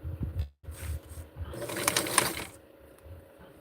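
A sewing machine runs in short bursts, stitching a tighter seam along the waist of a vintage 1960s barkcloth garment, with a brief pause and soft mechanical whirring close by.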